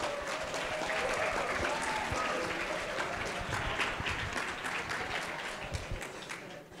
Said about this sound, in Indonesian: Tepuk tangan buat kelas 11E dong.